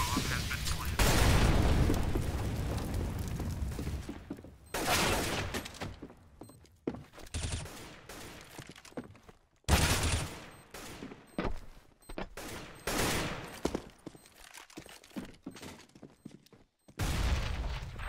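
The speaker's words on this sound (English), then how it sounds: "Throwing flashbang. Flashbang. Activating the bomb. Throw in fire. Incendiary out." A Counter-Strike-style video game round: heavy gunfire bursts, booming flashbang and incendiary blasts and rattling fusillades, loud and close, crowding one another with short gaps, while game voice callouts sound throughout.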